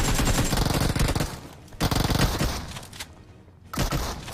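Shotgun fire in a squad battle video game sounds as dense bursts of rapid gunshots in three loud clusters with brief pauses between them, and no talk over them.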